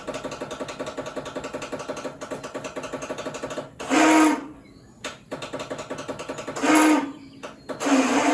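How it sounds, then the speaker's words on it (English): An old Ariens riding mower left sitting for about eleven years, with a new battery and a replaced carburetor, gives a steady mechanical clicking from its starter solenoid, broken by a few louder bursts of motor whir. "Clicking solenoid."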